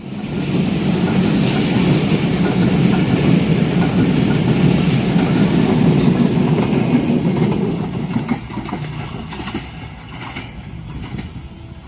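A Bangladesh Railway intercity train runs past with former Simanta Express coaches and a Chinese luggage van, a loud, close, continuous rumble with rattling coaches that fades toward the end.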